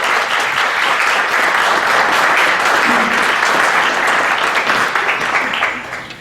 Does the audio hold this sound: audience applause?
yes